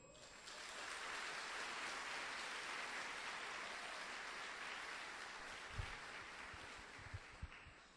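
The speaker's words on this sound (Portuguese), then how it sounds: "Pode aplaudir." A church congregation applauds steadily for several seconds, a dense patter of clapping that fills the space before thinning out with a few low thumps.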